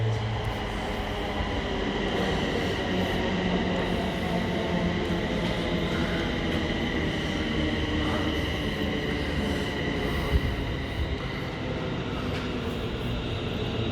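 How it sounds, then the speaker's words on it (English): A train pulls into Leighton Buzzard station with a continuous heavy rumble and rolling wheel noise. Faint squeals sit within the steady roar, which stays loud throughout. "Train putting in now, everyone look can see."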